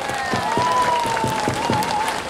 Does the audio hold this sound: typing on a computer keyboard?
no